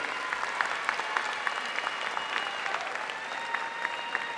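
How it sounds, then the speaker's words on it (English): A large audience at a high school graduation ceremony applauds, a steady, distant wash of clapping with scattered sharper claps standing out. "give them a round of applause for their love and their support of you"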